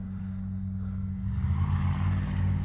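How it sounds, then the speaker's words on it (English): A radio-controlled Tundra model plane fitted with timber tires flies in a light breeze, its engine a steady droning hum that swells slightly louder partway through. "I tell you, I'm really enjoying this plane here."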